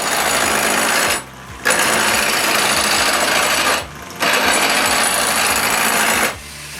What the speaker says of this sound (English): Now, I make them round with my cheap and super dangerous lathe.